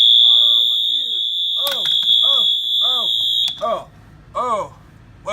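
A fire alarm shrieks loudly with a steady piercing high tone and bursts of buzzing, while a person shouts and exclaims over it.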